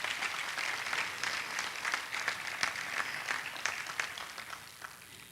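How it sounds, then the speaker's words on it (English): A commemoration crowd gives another round of applause: fairly faint clapping with distinct individual hand claps standing out, fading slightly toward the end. "Give them another round of applause."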